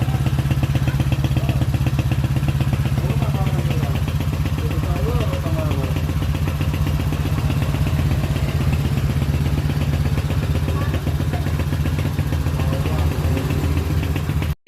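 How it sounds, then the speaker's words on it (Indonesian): A restored Honda Win 100 motorcycle with its original exhaust idles steadily up close, a continuous low, slightly clattery putter that holds for the whole stretch before cutting off abruptly at the end. "knalpotnya orisinil tuh Pak, kedengeran dari suaranya"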